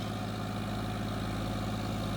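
A John Deere tractor's diesel engine idles steadily nearby, a constant low throbbing rumble with no voices.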